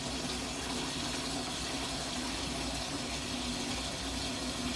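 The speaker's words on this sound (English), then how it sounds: "It's a tap with running water." Running tap water in a kitchen or bathroom, a steady continuous splashing hiss without breaks, fairly close and even in level.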